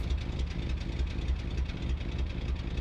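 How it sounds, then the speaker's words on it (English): A vehicle engine idles steadily in Workers & Resources: Soviet Republic, a low, even, rhythmic chugging throbbing at a constant pace, close and moderately loud with no talk. "we get to listen to the engine idle or work"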